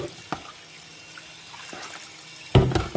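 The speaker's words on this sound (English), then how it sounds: "What I'll do is just throw a bit of water in this pan just to get all the material off the edges." Water splashed into a gold pan on a homemade fine-gold recovery machine, a sudden close splash near the end after quiet trickling and a few small drips.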